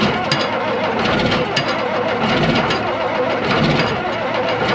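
A bulldozer's diesel engine cranks and catches at a dirt lake site, then runs with a rough, knocking rumble up close, loud and continuous with no voices.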